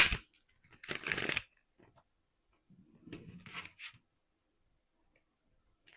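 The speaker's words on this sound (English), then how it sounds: "I didn't shuffle. Let me shuffle." Tarot cards are shuffled in two quick riffling bursts, close and crisp, separated by quiet pauses with faint handling noises.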